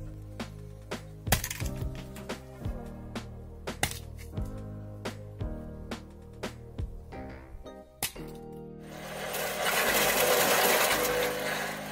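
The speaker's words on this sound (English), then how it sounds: "just a little skill and patience is enough to operate this manual wood splitter excellently" Manual backyard wood splitter working through small pieces of firewood: a series of sharp, irregular knocks and cracks at close range, ending in a longer noisy crunching burst.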